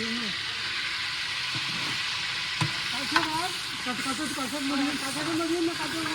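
Mutton fat frying in oil in a large pot for a big wedding-feast batch of mutton, a steady broad sizzle and hiss throughout with voices talking over it nearby.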